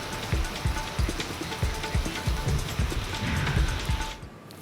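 Steady rain patters on a hard surface, dense and even throughout, with scattered sharper drops close by before fading out at the end.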